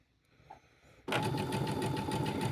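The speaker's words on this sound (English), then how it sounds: "show everyone a zigzag stitch" A sewing machine runs a zigzag stitch during a beginner sewing lesson. After about a second of quiet it starts abruptly and keeps a fast, steady, loud mechanical whir with a faint rhythmic needle clatter, close up and without speech.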